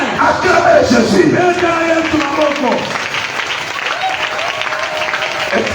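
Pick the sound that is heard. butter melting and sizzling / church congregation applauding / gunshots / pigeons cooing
church congregation applauding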